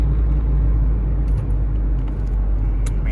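A cheap $425 auction car with 110,000 miles being driven, a heavy low rumble of engine and road noise inside the cabin with faint rattles, no talking.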